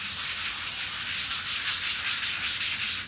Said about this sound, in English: You sand it nice and smooth.